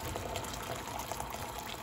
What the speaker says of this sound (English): I obviously need another pitcher of water to make this a full gallon